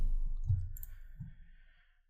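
A computer keyboard's Alt key is pressed during desktop publishing work, giving a couple of soft, close clicks in an otherwise quiet room.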